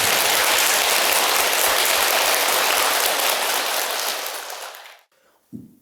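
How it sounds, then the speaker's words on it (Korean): Audience applause at a Buddhist temple prayer gathering in Busan: a dense, loud wash of many hands clapping together, holding steady for several seconds before fading and stopping abruptly, followed by a single faint thump. "불사 잘할 수 있도록 박수 한번 보내주시죠."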